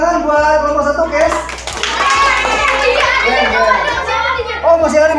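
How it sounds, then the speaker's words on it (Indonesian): A classroom of children claps for group 1, brisk rhythmic applause close by mixed with children's chatter and voices throughout. "tepuk tangan buat kelompok 1, Kes"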